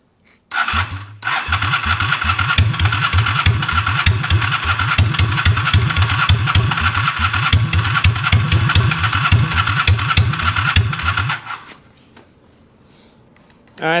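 Engine cranks and catches after a jump-start with a test light, then runs rough and loud with a steady lumpy pulse for about ten seconds before shutting off abruptly.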